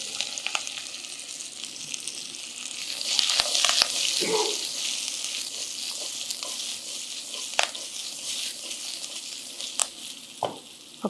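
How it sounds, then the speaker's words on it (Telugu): Chopped okra dropped into hot oil with turmeric and curry leaves, a steady, close sizzle and crackle with occasional stirring clinks, continuing evenly throughout. "మనం తరిగి ఉంచుకున్న బెండకాయ ముక్కలు ఇందులో వేసేద్దాం."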